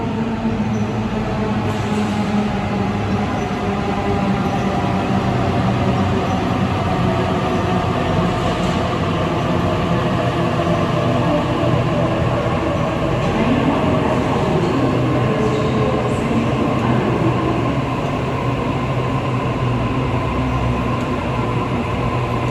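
A Sydney A set train, an eight-car electric unit simulated in Train Sim World 2, runs along steadily with a loud, continuous rumble and motor hum and no talking.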